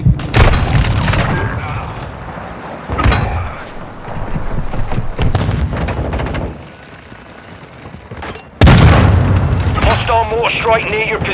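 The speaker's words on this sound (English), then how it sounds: "Hostile mortar strike near your position." Mortar strikes explode in Call of Duty: Modern Warfare II, heavy booming blasts landing near the player with cracking debris and rumble, several loud impacts spread across the scene amid radio chatter and voices.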